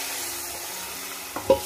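A masala mixture is tipped into an onion-garlic tempering in a pan, giving a soft, faint sizzle with a short stirring scrape near the end.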